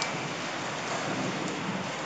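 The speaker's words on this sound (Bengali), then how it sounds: "প্রচণ্ড বৃষ্টি হচ্ছে খুব ভালোই বৃষ্টি হচ্ছে" Heavy rain pours steadily as a dense, continuous hiss, loud and close, with no voices.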